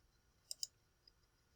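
A computer mouse clicks twice in quick succession, crisp and close but quiet, followed by a fainter single click in an otherwise silent room.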